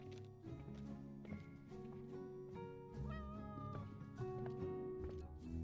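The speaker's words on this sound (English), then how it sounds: "My cat." A cat meowing in a few short calls that rise and fall, heard over steady background music and game sounds.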